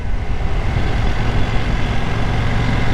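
A KTM 790 Duke parallel-twin motorcycle engine pulls in third gear on a road, a steady loud low drone with wind rush that holds without breaks.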